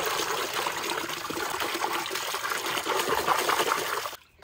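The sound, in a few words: water running while washing silver carp fish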